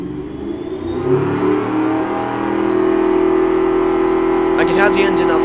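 A supercar engine in the video game Automation hums at a steady mid pitch, rising slightly and holding, with a brief whirring flutter near the end.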